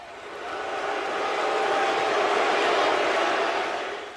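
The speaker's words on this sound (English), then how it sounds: "The crowd really not happy as he stands over LA Knight" Large wrestling arena crowd booing in displeasure, a broad sustained roar that swells to a peak and then eases off.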